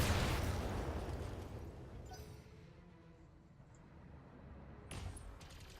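Enemy gunfire hitting the Vindicator in a military video game, a loud booming impact that fades into a long low rumble, with a sharper crack near the end.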